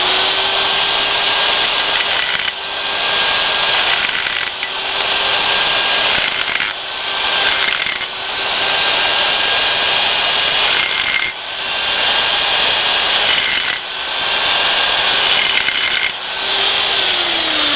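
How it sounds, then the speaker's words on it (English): A button burr grinds steadily inside a stainless steel pipe, a continuous high whine with brief pauses and rhythmic dips every couple of seconds as the tool is repositioned, close and loud with no talking. "Just come in with a button burr here."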